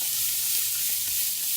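Rice frying in olive oil in a pan gives a steady, close sizzle of fine crackling hiss that holds evenly throughout, with no talking.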